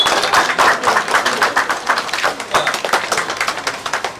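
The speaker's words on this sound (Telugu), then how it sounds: "చప్పట్లో" A crowd claps at a ceremony, giving a steady run of overlapping hand claps that stays fairly loud and even throughout, with no one speaking over it.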